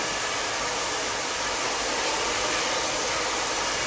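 A hair dryer blows steadily on a salon client's freshly straightened fine hair, a loud, close, continuous airy roar with no pauses and no talk.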